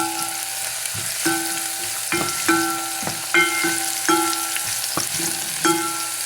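Quarter cup of onions frying and browning in a pan for Ethiopian shiro, a steady close sizzle broken by repeated scraping stirs of a utensil against the pan, no voices.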